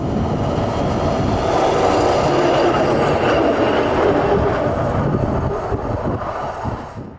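A grain freight train rolls past loudly and close, wheels rumbling and clattering steadily over the rails, with faint squeals, fading slightly at the end.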